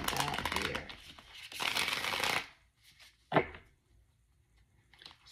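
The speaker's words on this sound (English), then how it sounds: "Do one more shuffle" Quick riffling shuffles of a tarot card deck, two bursts of flapping paper snaps followed by a single sharp tap and faint soft handling, close and clear.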